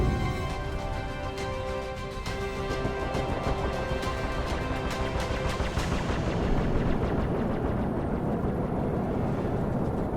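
Weapons fire from a Star Citizen space battle strikes a ship's shields, giving loud, dense rumbling blasts and booming impacts that fill the scene continuously and then settle into a lower roar.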